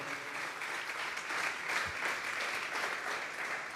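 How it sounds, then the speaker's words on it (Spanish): A church congregation claps together as an offering of praise to God during a Spanish-language service, a steady, even wash of applause at moderate volume lasting a few seconds. "Vamos a darle una ofrenda de palmas a Dios en esta hora."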